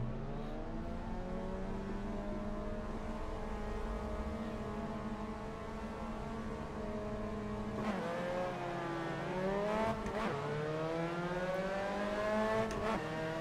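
A Mazda MX-5 Cup race car engine in a sim racing game at Okayama hums at a steady idle-like pitch, then revs up and down in rising, wavering sweeps as the race starts, with other cars faintly around it.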